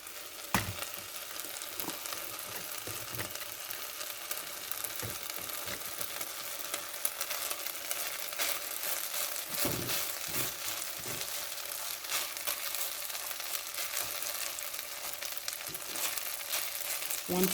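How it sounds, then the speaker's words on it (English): Rice browning in a pan for fluffy Spanish rice, sizzling and crackling steadily with faint scraping stirs, close and continuous with no talk. "You can hear that rice coming up and frying."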